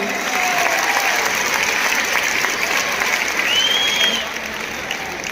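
Loud, sustained applause from a large crowd at a Veer Bal Diwas ceremony, steady clapping throughout that eases slightly near the end.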